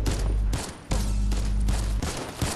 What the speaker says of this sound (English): we'll both shoot them at the same time